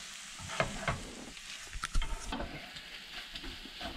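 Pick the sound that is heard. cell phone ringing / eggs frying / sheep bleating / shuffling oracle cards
eggs frying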